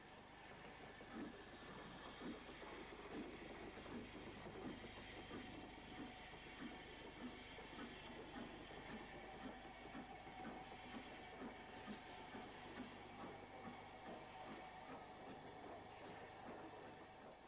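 Steam locomotive on the main line near Crewe Station in 1963, reversing away with a continuous low rumble and faint rhythmic clatter of wheels, steady and somewhat distant throughout.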